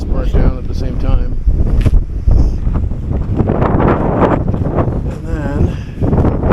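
Strong wind at the Barker Ranch ruins buffets the microphone in loud, gusty rumbles while a person talks over it.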